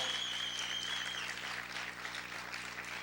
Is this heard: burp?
no